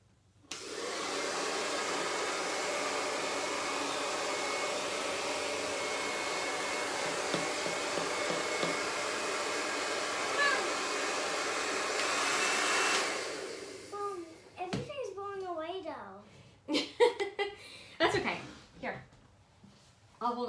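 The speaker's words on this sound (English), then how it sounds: "Blow dry yours." A hair dryer blows steadily on wet paint on a plate at a parent-and-child paint day, a constant whirring drone for about thirteen seconds that then cuts off, followed by nearby voices talking.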